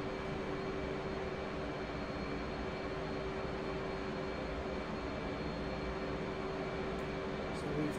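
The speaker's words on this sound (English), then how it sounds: "That Hornet enhancement, sound enhancement mod sounding really good right now." F/A-18C Hornet jet engine in the DCS flight simulator with a sound enhancement mod: a steady, loud, continuous roar with a fixed whine, unbroken for the whole stretch, with no talk over it.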